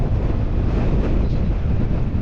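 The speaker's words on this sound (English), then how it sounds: "It is so windy." Strong coastal wind at Samphire Hoe roars continuously over choppy sea, buffeting the microphone with a loud, low, rumbling rush and no voices.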